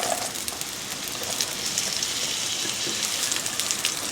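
Steady rain falls outside a home kitchen, a dense, even hiss of drops on surfaces with occasional brighter ticks, continuous and moderately loud with no voices.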